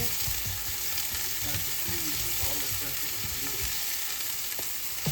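Onion and garlic frying in a pan for mung bean stew, a steady close sizzle with occasional stirring scrapes, no talking.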